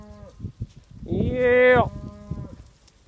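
A cow lets out one long, loud moo at close range during a spring cattle drive of about 300 head crossing a road, with a few brief shouts from a herder around it.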